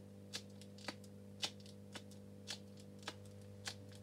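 A homemade antistress fidget toy clicks in sharp, crisp snaps, about seven of them spaced roughly half a second apart, close and distinct over a quiet steady hum.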